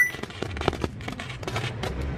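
A novelty egg-laying chicken firecracker goes off, giving a quick run of sharp crackling pops and bangs over about two seconds, fairly close and loud, with no talk.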